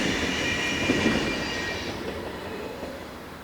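Trains on the Swiss mainline between Sargans and Zürich roll into a station, two of them running side by side. A steady rumble of wheels and squealing rails comes from a moderate distance and fades slowly, with no voices.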